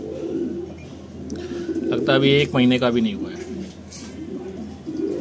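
A very young pigeon chick, under a month old, gives a short burst of soft cooing calls mid-clip while someone talks nearby.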